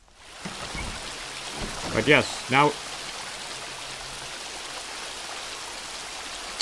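A waterfall in Super Mario Odyssey keeps up a steady, soft rushing hiss in the background while a person talks briefly over it.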